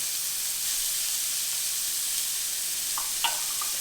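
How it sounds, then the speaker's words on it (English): Chopped shallots and garlic frying in a pan, giving a loud, steady, close hiss of sizzling oil that runs unbroken, with a couple of faint clinks near the end and no talk. "I'm adding in 2 chopped shallots, 8 cloves of garlic."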